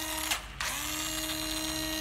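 A used Japanese-domestic cordless drill whirs steadily and close by, briefly stopping, then spinning back up to a smooth, even run; no talking.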